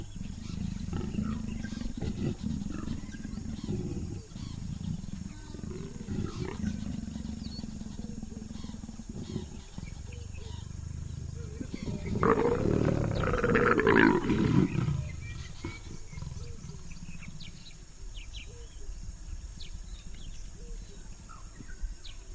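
Leopards in thick miscanthus and sedge grass growling and snarling during an aggressive mating, a low rumbling roar that swells loudly near the middle over a steady hiss of distant wildlife and birds.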